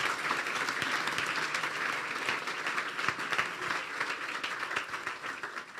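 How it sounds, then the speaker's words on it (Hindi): A church congregation bursts into loud, sustained applause, dense overlapping clapping that continues steadily throughout without a break. "खुदा के कलाम के लिए जोरदार तालियां बजा दीजिए।"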